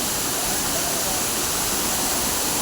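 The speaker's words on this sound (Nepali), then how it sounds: "झरनाको आवाज" A waterfall at Bhalepung near Tippi in Arunachal Pradesh gives a steady, dense roar of falling water, loud and unbroken from start to finish, with no voices over it.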